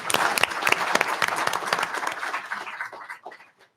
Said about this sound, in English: Okay, now we can clap.